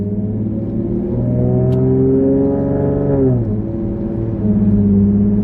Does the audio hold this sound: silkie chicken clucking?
no